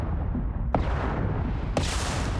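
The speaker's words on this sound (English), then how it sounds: "canister explosion took it out." An exploding canister in Mass Effect 2 during a firefight, with heavy rumbling booms and two sharp blasts rising over continuous low roar, loud and close.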